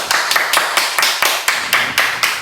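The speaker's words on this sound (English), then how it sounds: "Ladies and gentlemen, round of applause." A short burst of hand clapping from a small group, about ten sharp, evenly spaced claps over a couple of seconds, loud and close with no talk over it.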